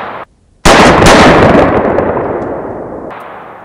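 Beretta A400 Xtreme shotgun firing a Winchester Super Speed 2 3/4 inch shell outdoors: one loud, close blast with a sharp crack that decays into a rolling echo tail lasting a few seconds.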